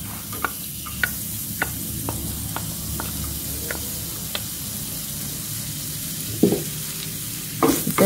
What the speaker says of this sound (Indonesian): Kita tumis bawang merah dengan sedikit minyak zaitun tadi